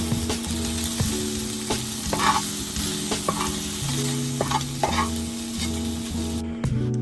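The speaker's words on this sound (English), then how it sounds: "I am grilling shrimp because my mom does not like raw seafood" Shrimp sizzling in a hot pan, a steady crackling hiss with spatula stirs and clinks throughout, close and fairly loud, over a faint background hum.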